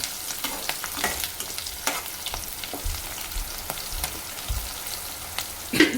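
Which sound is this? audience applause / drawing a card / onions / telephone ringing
onions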